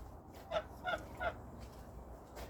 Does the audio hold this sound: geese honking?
yes